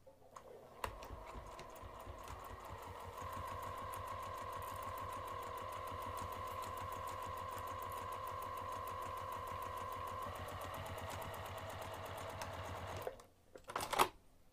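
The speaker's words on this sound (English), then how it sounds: "we're going to sew this seam using a half inch seam allowance" A sewing machine stitches a fabric seam with a half inch seam allowance at 2.5 mm stitch length, one steady run of rapid needle clatter for about twelve seconds, close and alone, ending in a couple of short bursts.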